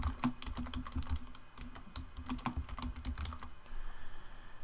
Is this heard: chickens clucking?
no